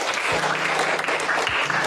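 Classroom applause from students during a lesson, a brief steady patter of many hands at moderate level, with a faint voice underneath.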